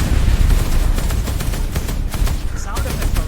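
Dense, rapid AI-generated gunfire with overlapping shots and booms, loud and continuous for a few seconds.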